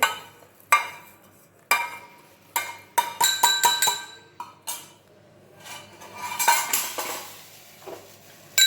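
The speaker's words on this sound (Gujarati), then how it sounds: "ખાંડણીમાં પણ કૂટી શકો છો આવી રીતે દરદરું થાય ત્યાં સુધી ખાંડી લેવાનું છે" Coarse spices for a spicy raw mango pickle pounded in a mortar, heard as a run of sharp knocks, some single and some in quick bursts, close by with no talk.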